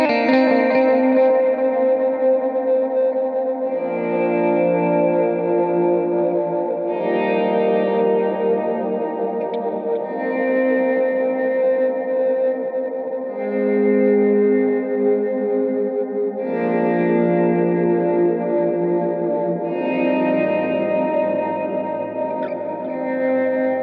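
Lead guitar with a swell tone effect plays sustained, smoothly fading-in notes on a worship song, heavily washed in chorus, echo and reverb, with each note blooming slowly into the next for a continuous, loud, ambient texture and no talking.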